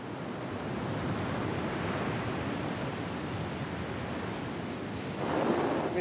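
Sea waves wash steadily against the shore of a flooding Panamanian island village, a broad continuous surf roar mixed with wind that swells slightly louder near the end.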